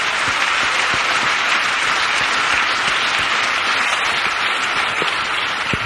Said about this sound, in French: Acclamons pour Jésus-Christ.